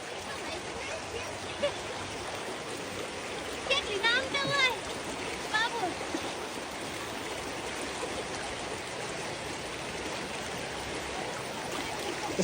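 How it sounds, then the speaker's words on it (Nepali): A small mountain stream in winter flows with a steady broadband rush throughout, with brief splashy bursts near the middle and people talking faintly at times. "मुनि पनि क्या मजाको छ हेर्नुहोस् ठाउँ सानो खोला जाडो महिनामा।"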